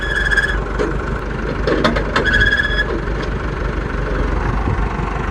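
Small auger engine running at a steady idle, a continuous low drone with intermittent clicks and knocks from handling, close by with no talking.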